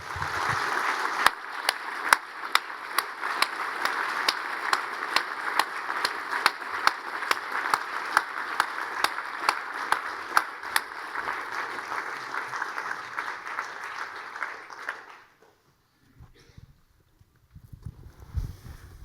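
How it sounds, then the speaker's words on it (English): Audience applause fills a hall at a survivor story event for about fifteen seconds, a dense steady wash of many hands with sharper individual claps, then cuts off abruptly into near silence and faint shuffling. "if you can give them a round of applause"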